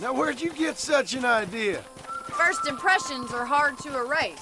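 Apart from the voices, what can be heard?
No distinct noise like a dog, phone or traffic.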